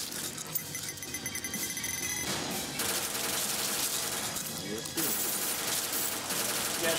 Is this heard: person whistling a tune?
no